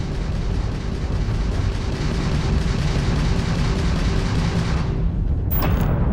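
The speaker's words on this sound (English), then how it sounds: "that's a Crimson Fleet ship bringing its weapons to bear" Crimson Fleet ship weapons firing during space combat in Starfield: a continuous loud barrage of booming, rumbling blasts filling the whole stretch, with a brief bright burst near the end.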